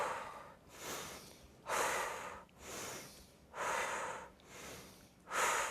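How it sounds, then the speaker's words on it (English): Slow deep breaths repeat through a morning energy exercise routine, with rhythmic inhales through the nose and longer exhales through the mouth, six breath sounds close and soft with no talking. "Take in 4 deep breaths through your nose and breathe out through your mouth."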